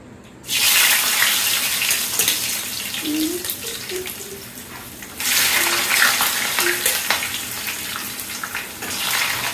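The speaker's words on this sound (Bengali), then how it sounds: "এখন গরম তেলের ভিতরে সব সব আলুগুলো দিয়ে দিব" Potatoes dropped into hot oil set off a loud, steady sizzle at about half a second, which eases slightly and then surges again near five seconds, holding a dense crackling hiss to the end.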